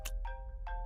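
A short electronic ringtone plays two or three quick bright tone bursts, faint and clipped, with no talking.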